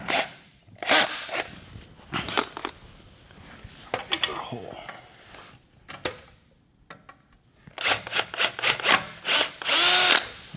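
A power drill bores a hole during a wheel light installation, working in several separate bursts with pauses and tool handling between them, some clatter of parts, loud and close.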